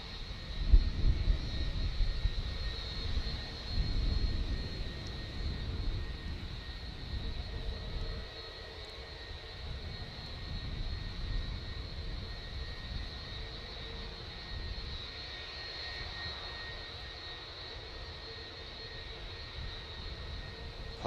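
A 32-year-old airliner on flight LS 1023 hums steadily with its jet engines at an airport, a faint, continuous whine and low rumble heard from a distance.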